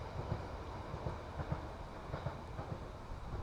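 A London Underground Piccadilly line train passes at Sudbury in London, heard from above at a distance as a faint rolling rumble with a rhythmic clickety-clack of wheels on the rails.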